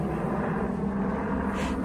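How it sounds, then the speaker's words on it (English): Military training helicopters pass overhead near an army aviation base, a steady loud rotor and engine drone filling the short clip without pause. "You can hear the helicopters going over."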